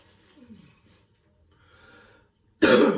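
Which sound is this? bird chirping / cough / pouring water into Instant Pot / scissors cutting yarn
cough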